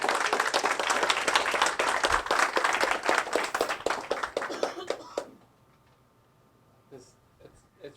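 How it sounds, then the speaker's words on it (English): Audience applause from a conference crowd, dense clapping lasting about five seconds before trailing off into quiet room tone with scattered faint sounds. "Round of applause for us."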